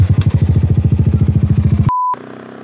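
Yamaha XMAX 300 maxi scooter fitted with an Akrapovic exhaust, its loud, deep pipe pulsing in a rapid steady rhythm close by, then cut off abruptly by a short beep tone and a quieter low hum.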